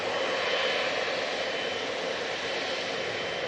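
A Turkish Airlines A321neo jet on final approach at Manchester Airport gives a steady, broad roar of engine noise, fairly close and constant throughout.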